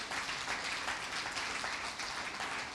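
Church congregation applauding in praise, a dense, steady patter of many hands clapping together, fairly quiet and without voices over it.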